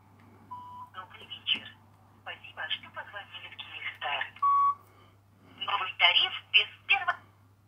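A Nokia 7373 phone plays its ringtone through the loudspeaker, a run of bright electronic melody notes in bursts with short gaps, close and fairly clear over a steady low hum.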